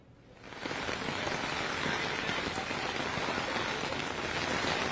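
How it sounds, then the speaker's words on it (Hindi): Heavy rain pours onto a street in Jaipur, a dense, steady hiss that swells in the first half second and then holds loud and unbroken, close by, with no voices. "सहकार मार्ग पर मेरी मौजूदगी है जहां पर तेज बारिश हो रही है"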